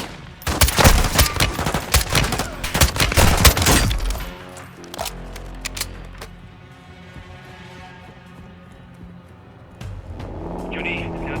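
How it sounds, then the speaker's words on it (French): In a Modern Warfare 2 game, a booby-trapped truck blows up amid a loud burst of rapid gunfire and crashing debris, then the noise fades into a lower rumble with scattered sounds. "Johnny, c'est un des camions que j'ai piégé. Et ça fait boum."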